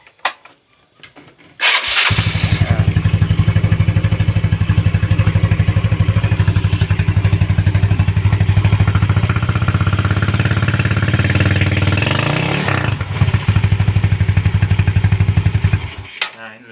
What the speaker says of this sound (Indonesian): Jadi itu langsung ya, saya hidupkan lagi.